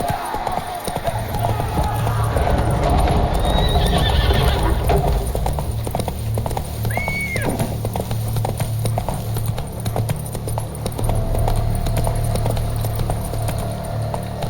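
A horse's hooves clip-clop at a gallop in The Witcher 3, with a steady pounding rhythm, a whinny partway through, and the horse near and loud throughout.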